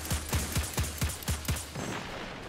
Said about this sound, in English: it's a high impact hand cannon, but the rate of fire is so slow